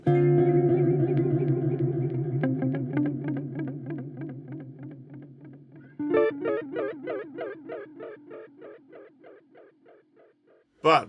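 Guitar run through a Meris Polymoon modulated delay set to fast speed and exaggerated depth: sustained chords wobble into rapid pulsing repeats that fade away, then a fresh strum at six seconds repeats and decays again, ending on a sharp final hit.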